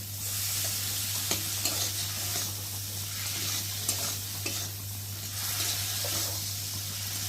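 Peeled shrimp sizzle in hot oil in a wok, a bright, steady crackling close up, broken by a few sharp clicks and scrapes as they are stirred, with a low steady hum underneath and no talking.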